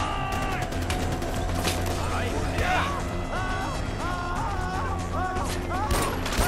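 Gunfire in the video game Far Cry 4 during an airport fight, rapid bursts and single shots crackling over game music, with a person talking over the action.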